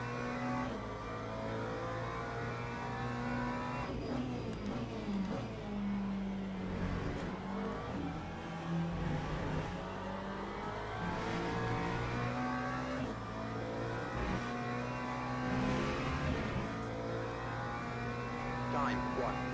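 Race car engines in the Le Mans Ultimate racing game, overtaking a Porsche, with several engines whining and revving continuously at a moderate level.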